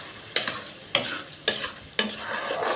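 Black gram dal frying with spices in oil, a steady sizzle broken by four sharp stirring scrapes at regular intervals, close and moderately loud with no voices.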